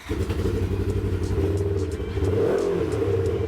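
An ATV engine rumbles with a throaty, crisp exhaust note, revving up near the end, close and continuous with no one speaking.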